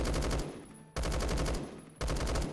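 Rapid automatic gunfire from a video game weapon fitted with attachments, heard as three loud, close bursts of fast, evenly spaced shots, each about a second long and separated by brief breaks, with no talking.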